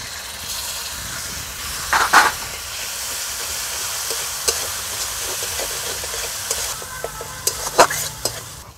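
Ground tomato paste is tipped into ginger frying with a little turmeric, giving a steady close sizzle and hiss with a few louder spattering bursts, and no talk.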